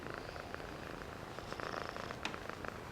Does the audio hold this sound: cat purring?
yes